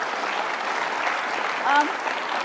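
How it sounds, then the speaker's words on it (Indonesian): Studio audience on a television talk show applauds, a steady wash of many hands clapping at moderate loudness throughout, with a short voice rising briefly over the applause near the end. "Oke, kita tepuk tangan."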